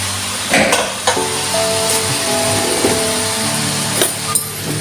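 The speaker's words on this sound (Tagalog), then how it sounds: "Haluin ko na siya guys para magkaroon ng lasa." Noodles and vegetables are stirred in a cooking pan, with scattered clanks from the utensil striking the pan over a continuous sizzle. There is no talking.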